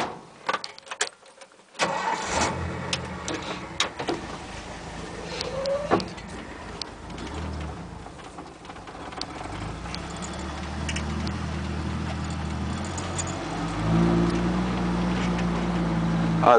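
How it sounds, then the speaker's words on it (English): A 1967 Ford highboy pickup truck engine cranks and starts, then idles and rumbles steadily as it begins moving, revving up slightly toward the end. "I'm going to turn the truck around"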